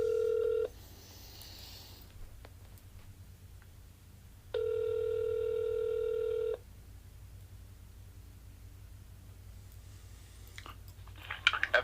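Keypad tones from a telephone dialing an extension on an automated office phone line: two steady tone bursts, one brief and one about two seconds long, separated by quiet line hiss, with faint handling noise near the end.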